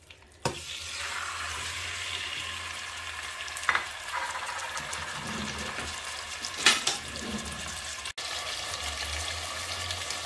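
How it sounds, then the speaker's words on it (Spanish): Chicken pieces fry in a generous amount of hot oil in a pot, giving a steady close sizzle and crackle with a few louder spits and clatters of stirring. "vamos a poner en una olla aceite, una buena cantidad. Cuando ya esté caliente, vamos a agregar el pollo."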